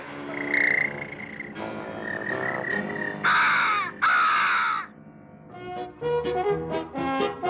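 Crow cawing in a Smurfs cartoon, a run of loud hoarse caws that comes in bursts over a busy cartoon soundtrack, with a few short croaking calls near the end.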